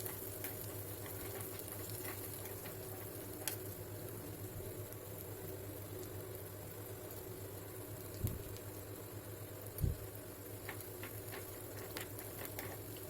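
Spiced vegetables with salt, chilli powder and garam masala sauté in a pan for poha cutlets, a steady low sizzle and stirring hiss running throughout, with a few soft spatula knocks near the end.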